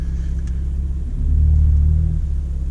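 A Ford Fiesta ST on a test drive gives a loud, close engine rumble that swells partway through as it pulls harder, with a deep, steady low drone and no talking.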